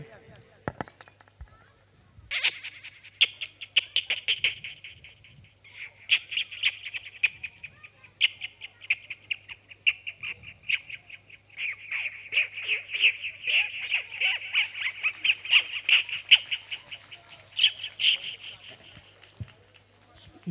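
A mimic performing on stage uses his voice to imitate a parrot flying away. A shrill, whistling bird-like call runs on and off for about twenty seconds, with sharp fluttering bursts and no other sound around it.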